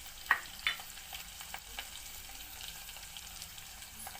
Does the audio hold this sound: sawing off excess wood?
no